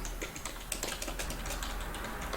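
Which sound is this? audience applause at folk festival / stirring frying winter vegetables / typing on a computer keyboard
typing on a computer keyboard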